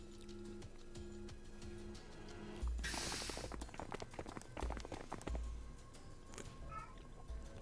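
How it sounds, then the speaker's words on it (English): A cat meows briefly in the Zero Time Dilemma video game, a short faint call near the end after louder clattering and thuds. "Meow."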